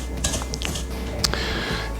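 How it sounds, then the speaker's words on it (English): A wooden spoon presses and scrapes butter and sugar against the side of a bowl as they are creamed together, giving soft irregular knocks and scrapes over a low steady background hum. "using the back of a wooden spoon, very much like we did with our apple dessert, we're going to sort of cream the two together"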